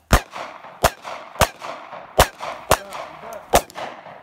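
Sharp gunshots from a handgun during a move-and-shoot concealed carry drill, six loud separate reports at uneven intervals of roughly half a second to a second, each followed by a short echo tail.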